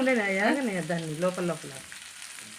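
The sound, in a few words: potatoes frying in a pan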